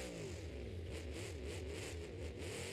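A monster truck, the JCB Digatron, drives into a camper during a car-crush show in Tampa, its engine a loud, steady, close roar that surges and revs throughout without a pause.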